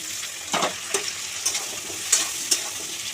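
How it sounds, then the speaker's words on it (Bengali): Sliced eggplant and potatoes fry in hot oil with chopped onion, giving a steady close sizzle broken by several sharp scrapes and clatters of stirring, with no talk. "কেটে রাখা বেগুন আলুগুলো দিয়ে দেবো।"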